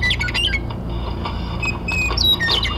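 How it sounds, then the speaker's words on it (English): Birds squawking outdoors near water, several sharp, high calls and chirps scattered over a steady low background rumble. "Birds."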